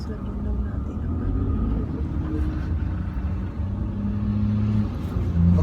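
Low, steady engine rumble and road noise from inside a moving car, running continuously beneath people talking.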